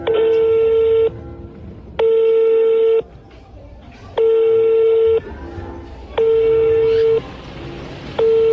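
Telephone keypad dialing tones sound as five sustained beeps of about a second each, separated by short gaps, loud and close over faint background murmur.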